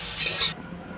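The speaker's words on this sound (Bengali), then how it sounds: "আমার শাক ভাজা হয়ে গেছে, এবার তুলে নেব।" Fried Bengali greens (susni shak) being stirred and scooped from a pan, a short loud burst of sizzling and scraping that cuts off abruptly into quiet.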